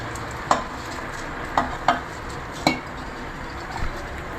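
Rice being stirred into a pot for methi pulao makes a low sizzling bed, broken by several sharp metallic clinks of the spoon against the pot at irregular intervals.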